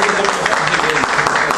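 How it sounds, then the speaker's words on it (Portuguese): An audience at a library congress applauding two speakers, a dense continuous wash of many hands clapping, loud and close, with faint voices mixed in. "Eu peço uma salva de palmas para estes dois brilhantes oradores."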